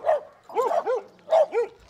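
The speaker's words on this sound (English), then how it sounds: "Little growl at the dogs." A small leash-reactive dog on a walk gives a quick series of sharp, high yappy barks with a slight growly edge, close and loud, in two short bursts with a pause between.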